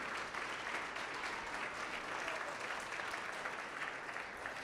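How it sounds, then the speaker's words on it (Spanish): Steady, sustained applause from a church congregation during a sermon, a dense even clatter of many hands at moderate distance with no break. "Dele un sonoro aplauso"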